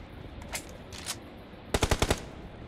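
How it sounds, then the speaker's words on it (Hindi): Machine gun fire in PUBG, a few scattered single shots followed by a tight burst of about five rapid rounds, fairly close and loud with no talking. "ओ मेरे पे गोली चला दी उसने।"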